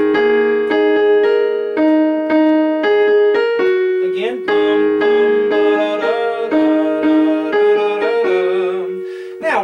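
Piano playing a passage of a song with both hands, steady melody notes over sustained left-hand chords, close and clear with no talking.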